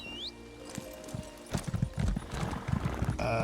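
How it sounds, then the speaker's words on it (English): A horse gallops in Elder Scrolls Online, quick rhythmic hoofbeats clip-clopping close and steady after a brief whinny-like tone, with faint game ambience underneath. "Wow, my horse is so fast"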